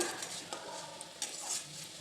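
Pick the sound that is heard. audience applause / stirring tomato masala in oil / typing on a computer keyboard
stirring tomato masala in oil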